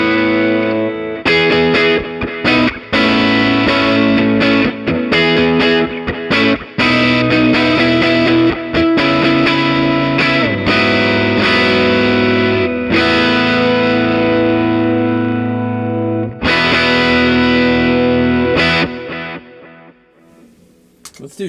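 Electric guitar through a Coppersound Daedalus reverb pedal with overdrive and delay rings out in loud, distorted chords and notes with long, washy reverb tails and echoing repeats, fading near the end.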